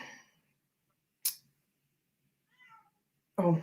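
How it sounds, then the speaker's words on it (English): A Savannah cat gives a few short meows at irregular intervals, quiet and somewhat muffled from outside a door, with faint sounds between calls. "my Savannah cat is outside the door."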